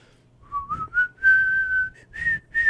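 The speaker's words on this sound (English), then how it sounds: "Could you just do that whistle?" A person whistling a short melody at a comedy show, clear sustained pitched notes in several separate phrases with brief pauses between them.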